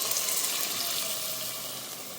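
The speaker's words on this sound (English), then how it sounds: "I'm going to be adding in 4 cups of filtered water." Filtered water pours in a steady hissing stream into a soup pot, splashing and sizzling against the hot bottom, heard close and gradually fading over a couple of seconds.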